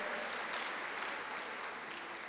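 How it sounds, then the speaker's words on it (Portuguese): A church congregation claps in a brief burst of applause, fairly faint and distant, steady for a couple of seconds. "Você pode dar uma forte salva de palmas para Jesus aí?"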